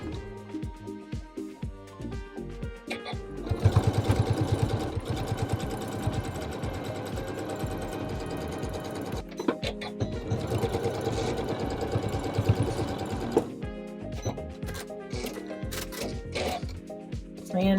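A sewing machine stitches a seam on a doll dress made from a skirt, a walking foot fitted, running in several steady bursts with short pauses between them, close and clear.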